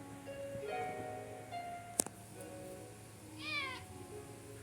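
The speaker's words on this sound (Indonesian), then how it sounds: "anak kucing" A kitten meows in the fantasy video game Another Eden, several short tonal mewls rising and falling over a soft musical background, with one sharp transient midway.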